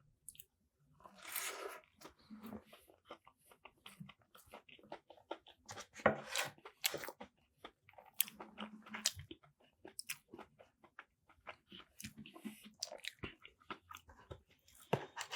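Crunchy, wet chewing of a pancake bite, close to the mic, in irregular bursts with short pauses between mouthfuls and no talking.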